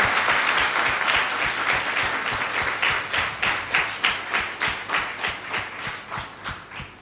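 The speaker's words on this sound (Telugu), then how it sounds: "క్లాప్స్ కొట్టి గట్టిగా కొట్టు." A church congregation at a field training programme claps together in a steady rhythm, loud and sustained, the claps becoming more distinct and slightly uneven toward the end.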